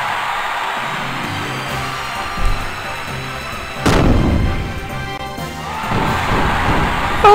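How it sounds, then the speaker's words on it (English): Fireworks bursting during a scene in the video game Xenogears, with repeated loud booming blasts and crackling over a busy game soundtrack, the biggest bursts landing near four and six seconds. "Oh my god, they have fireworks!"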